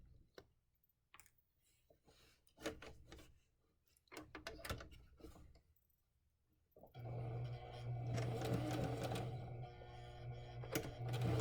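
A sewing machine backstitches a dart in fabric: scattered ticks and short handling clicks lead into a steady, close mechanical whirring hum that runs to the end.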